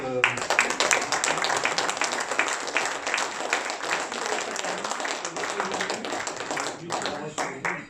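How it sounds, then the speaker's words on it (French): A conference audience at a talk on Brexit breaks into sustained applause, dense rapid clapping from a full room lasting several seconds, with some voices mixed in near the end. "Alors, je pense qu'on peut tous applaudir."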